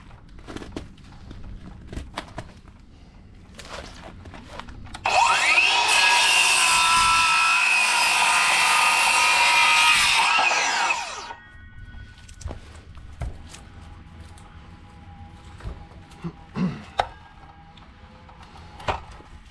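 A Ryobi power tool cuts up pieces of wood in a loud, steady burst of about six seconds. Scattered knocks, rubbing and footsteps come before and after the cut.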